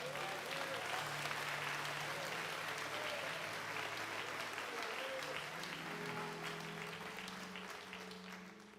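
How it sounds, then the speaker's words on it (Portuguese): A church congregation claps steadily and loudly for several seconds during a service, a dense, sustained applause with faint voices underneath. "Pode aplaudir a Jesus bem forte essa noite."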